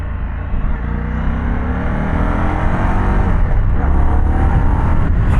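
An Indian Sport Scout motorcycle engine pulls hard on the open road, its loud, steady growl rising as the bike accelerates, with no talking.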